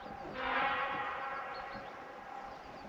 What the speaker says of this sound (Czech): V dálce jede vlak